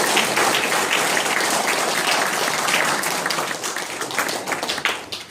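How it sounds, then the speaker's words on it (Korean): A crowd at a 100th-anniversary March 1st Movement commemoration ceremony breaks into loud, steady applause that gradually thins toward the end. "큰 박수 한번 보내주시기 바랍니다."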